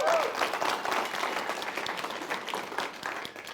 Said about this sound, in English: so please give a big round of applause for Pranav Nambiar